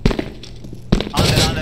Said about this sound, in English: Deploying flashbang.